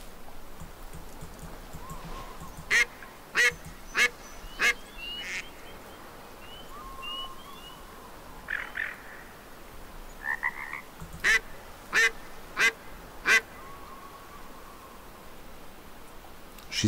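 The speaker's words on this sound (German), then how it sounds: "Pass auf, wir haben doch diese Entenpfeife hier dabei." A duck call is blown repeatedly while hunting in the video game Way of the Hunter, a series of sharp quacking bursts in groups against a steady outdoor ambience with faint birds.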